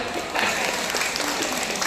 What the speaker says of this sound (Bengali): দাদার জন্য একটা জোরে হাততালি